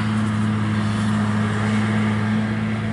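Construction machinery at work building a new carp lake at a fishery drones steadily in the background, a continuous low engine hum with a strong steady tone and broadband rumble, no talk over it.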